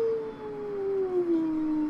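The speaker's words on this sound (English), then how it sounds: "I don't care about your howling." A single sustained, slowly descending howl rings out loud and clear from a Pokémon in Pokémon Alpha Sapphire, tonal like a dog's cry, with no talking over it.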